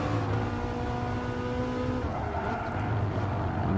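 A Ferrari 458 engine in the Gran Turismo racing game revs hard through the gears at the Maggiore circuit, a rising harmonic whine with a shift near the middle before climbing again, loud and close.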